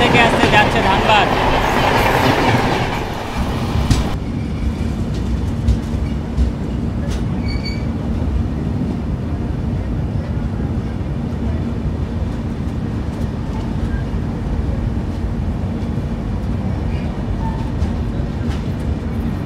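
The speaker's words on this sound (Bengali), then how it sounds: "Train number 13352 Dhanbad express Alappuzha থেকে আসতে যাচ্ছে ধানবাদ।" The Dhanbad Express, train 13352 from Alappuzha, pulls into Coimbatore Junction station with a steady low rumble of wheels and rail clatter. Faint squeals and clicks come and go, and a louder burst of noise at the start fades to a continuous roll.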